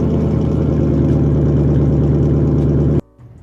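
A Ford Mustang engine and exhaust rumble loudly and steadily up close, a deep continuous drone that cuts off abruptly near the end, leaving a faint low hum.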